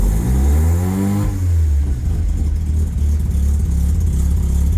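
A Mazda RX7 rotary engine fires up and revs, its loud steady drone rising and falling in pitch at first, then settling into a rough, throbbing idle, close up and without voices.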